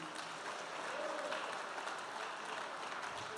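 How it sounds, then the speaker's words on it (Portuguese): A church congregation applauding during a sermon, a steady, fairly soft patter of many hands clapping in a room, continuous for a few seconds without any voices rising above it. "Você pode aplaudir o Senhor Jesus por isso."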